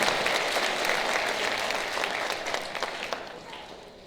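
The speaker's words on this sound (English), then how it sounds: "one more round of applause for our reflector speakers, our retirement speakers, and for the retirees" Audience at an eighth grade moving up ceremony applauds retiring teachers and speakers, a sustained wash of clapping that thins slightly toward the end.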